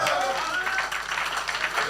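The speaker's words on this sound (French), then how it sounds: "Oh, applaudissez le Seigneur." A church congregation claps together at an Easter Sunday evening service, a dense and continuous burst of applause that sits close and loud under speech.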